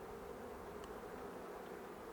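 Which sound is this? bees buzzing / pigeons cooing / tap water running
bees buzzing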